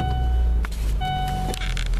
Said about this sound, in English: So get the car started here while I'm talking